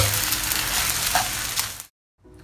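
Singapore fried vermicelli (beehoon) with prawns frying in a pan, a loud steady sizzle with stirring scrapes that cuts off abruptly near the end, then a fainter sizzle returns.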